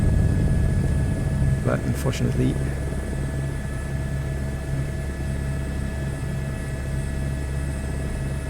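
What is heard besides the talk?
helicopter flying in the video game Microsoft Flight Simulator 2024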